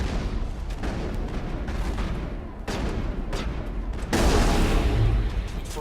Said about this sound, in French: Petit fusil à pompe.